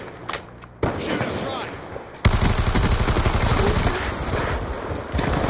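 Rapid gunfire bursts from a first-person shooter video game, loud and dense, with sustained automatic fire rattling through most of the clip and some brief talk near the start.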